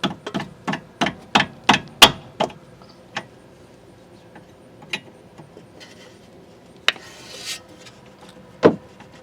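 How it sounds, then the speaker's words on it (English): A 19mm wrench loosening a tie rod nut on a 2003 Toyota Camry, heard as a quick run of sharp metallic clicks up close, then scattered single knocks and taps with quiet gaps between them; no talk. "we'll use a 19mm wrench to loosen this up"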